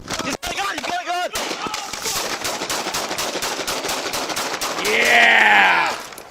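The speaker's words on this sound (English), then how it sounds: "20 shots fired, officer down" Rapid burst of gunfire in a police shootout, many sharp shots in quick succession with shouting voices over them, followed by a loud wailing siren-like tone near the end.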